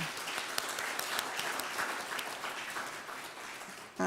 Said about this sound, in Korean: 우리 격려의 박수를 보내주시기 바랍니다.